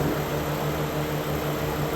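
A 1994 Mercedes C280 engine idling after a rev, a steady low hum and whir with a faint fan-like hiss, continuous and even throughout.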